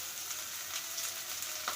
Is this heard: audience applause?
no